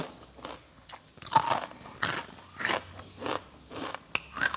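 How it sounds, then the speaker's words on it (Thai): Crispy pork rind snack crunched between the teeth, about seven sharp brittle bites and crackles in a steady rhythm, close and distinct with no talk. "กรอบทะลุจอ"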